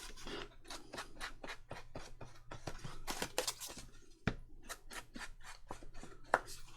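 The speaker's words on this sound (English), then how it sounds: "Fold it on this crease." Paper being folded along a crease and pressed flat while crafting with a 12x12 paper pad, giving a close run of quick crisp rubs and scrapes in a steady rhythm, with a sharp tap near the middle and no talk.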